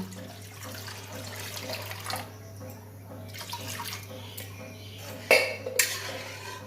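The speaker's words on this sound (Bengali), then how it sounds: "এবার আমি জল দিয়ে দেবো, সেদ্ধ করার জন্য জল দেব" Water is poured into a pot of washed mung dal ahead of boiling. A soft, steady splash of running water continues throughout, followed near the end by a couple of sharp clinks of metal utensils.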